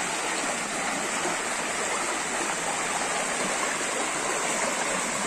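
A forest stream near a remote woodland site, steady broadband rushing and trickling water, close and continuous with no talk.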